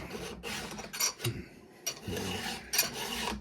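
A file rasps across chainsaw teeth in several short scraping strokes with brief pauses between them, close and moderately loud.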